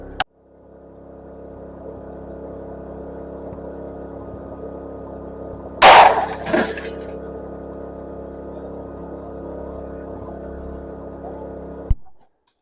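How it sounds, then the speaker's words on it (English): A shallow Sierra Blaster blast head splits a rock while widening a shaft: one sharp, loud crack with a brief second burst right after, cutting through a steady low engine drone that runs throughout. "you can see we split that rock right in two with one shallow blast head"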